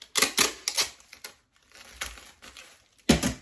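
Tape is pulled and pressed onto a package being packed for shipping: a few sharp, crackly, sticky bursts in quick succession, close and clear with short gaps between them.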